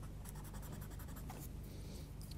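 Rubber blender rubbed over colored pencil on paper, a steady close scratchy rasp of repeated short strokes with no talking.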